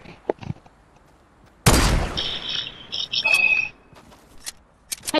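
Gunfire in Fortnite: a sudden loud burst of shots followed by scattered, lighter gameplay effects, with sparse sharp clicks before and after.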